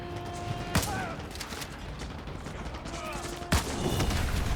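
Two loud SPAS-12 shotgun blasts in the 2009 Call of Duty: Modern Warfare 2 Remastered mission Cliffhanger, spaced a few seconds apart, with ambient game noise and occasional speech between them.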